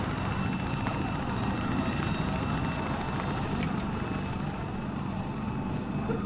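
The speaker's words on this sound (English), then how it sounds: "Why you all keep asking every time when the helicopter hovers?" Helicopter hovering in a military video game during a rappel insertion into a warzone, a steady loud rotor and engine drone that fills the whole stretch without letup.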